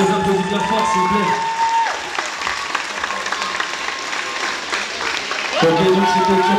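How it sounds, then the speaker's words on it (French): Loud audience applause and some cheering at a semba dance demonstration evening, a sustained wash of clapping from the crowd, with music or a voice briefly rising at the start and end. "les applaudissements forts, s'il vous plaît"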